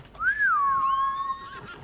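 A horse whinnies once in Ghost of Tsushima, a single clear rising-then-falling call that holds steady for about a second before fading, heard alone with faint background.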